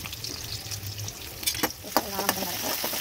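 Onions fry in hot oil with urad dal in a pan, a soft steady sizzle under occasional stirring scrapes and clinks.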